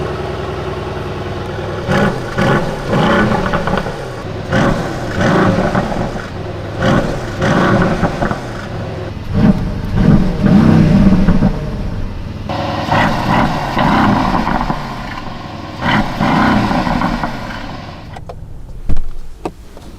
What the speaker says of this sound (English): we'll check out the exhaust sound of this 63 AMG with a V8 bi-turbo 4MATIC Plus